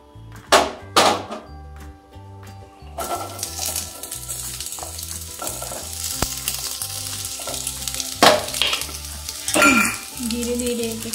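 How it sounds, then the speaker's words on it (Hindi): Vegetables fry in hot oil for sambar, with a loud, continuous sizzle and spoon stirring scrapes, plus several sharp clatters of vegetables or utensils hitting the pan over faint rhythmic background music. "हमारी जो वेजिटेबल्स थे हम उसको थोड़ा तल कर डालेंगे हमारे सांभर में, इसलिए हम इसके लिए हमने पहले थोड़ा तेल गरम कर लिया"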